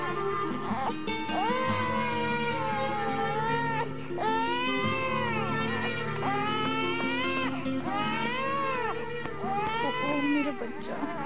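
A baby wails in long, rising cries with short breaths between, loud and close, while an adult's soothing voice murmurs faintly underneath.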